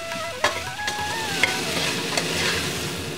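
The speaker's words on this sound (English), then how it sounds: "Roast for 2 or 3 minutes on low medium flame." Soaked chana dal and capsicum sizzle steadily while roasting in a pan on a low-medium flame, with a constant frying hiss broken by a few sharp stirring scrapes and clicks.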